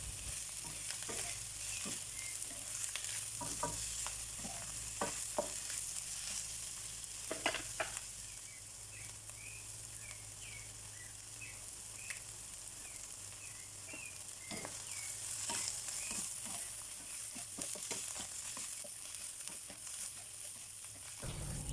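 Eggplant and mushroom vegan dumpling filling cooks in a pan, giving a steady soft sizzle with intermittent stirring scrapes and clicks of a utensil throughout, fairly close and continuous with no talking.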